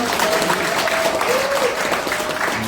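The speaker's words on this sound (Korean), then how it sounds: "우리 한창대에게 큰 박수 함성까지 부탁드릴까요?" An audience at a lecture in Cheonan bursts into dense, steady applause with some cheering, filling the hall at a constant loud level throughout.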